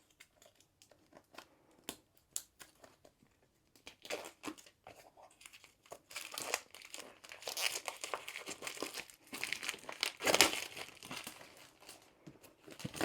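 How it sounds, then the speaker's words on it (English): Quiet crinkling and tearing of a diamond art kit box's sealed packaging, with scattered small clicks from scissors at first, then louder rustling and ripping as the wrapping is pulled away. "the box is sealed, so the first thing we have to do is open it"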